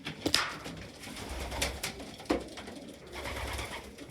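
Pigeons coo in a loft alongside a recently imported grizzle cock, soft repeated calls with a few sharper notes and light rustling, close by and with no talking.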